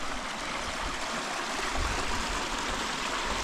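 A very small waterfall on Dartmoor gives a steady, close rushing and splashing of water that continues evenly throughout, with no voices.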